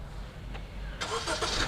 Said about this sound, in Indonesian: mesin otomatis menyala serta juga AC otomatis menyala